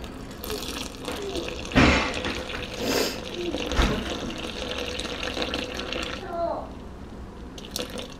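Water runs from a tap in a few short bursts, splashing into a container of flour at close range, with faint background noise.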